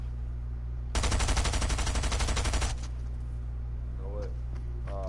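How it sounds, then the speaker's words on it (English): A Stinger SMG in the Fortnite video game fires one rapid automatic burst lasting under two seconds, loud and close, followed by quiet room tone and a faint brief voice. "The Stinger SMG."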